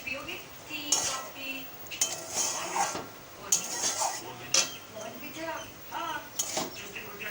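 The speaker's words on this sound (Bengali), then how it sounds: "সুন্দর করে মাছটা নেড়ে নেব" Small fish frying in a pan and being stirred, with repeated metal scrapes and clinks of a spatula against the pan over a faint sizzle, close, with bits of speech between.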